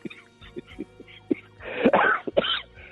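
A person coughs a few times close up, with rough bursts clustered together amid quieter throat sounds.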